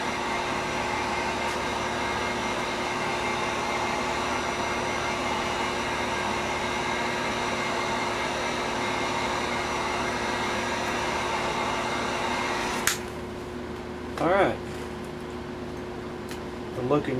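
A handheld dryer blows a steady, loud airy roar over fresh paint on a scale model nacelle, running constantly before cutting off near the end, followed by a couple of brief bumps and handling sounds.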